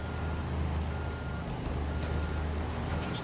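Steady, evenly spaced reversing beeps from a truck backing up on a Construction Simulator 2 building site, heard over a constant low diesel engine rumble.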